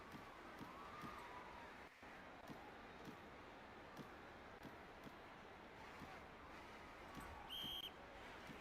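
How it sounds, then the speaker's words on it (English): A referee's whistle at a college football game between UPIKE and LA Valley gives one short, shrill blast near the end, well above a steady wash of crowd and wind noise. "finally, whistle's blown"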